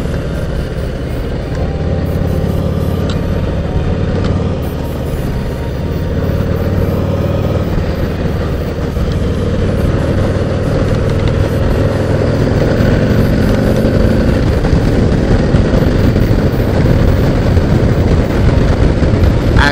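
A 2018 Harley-Davidson Heritage 114 motorcycle engine while riding, a continuous loud low rumble with steady wind roar that stays constant and close for the full stretch, with no speech over it.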